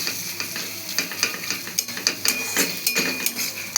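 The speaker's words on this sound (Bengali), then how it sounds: "এটাকে আমরা ভালো করে একটু নাড়াচাড়া করলাম।" Onions and chickpeas fry in oil while turmeric is stirred in, a spoon scraping and clinking against the pan in repeated strokes over a constant sizzle.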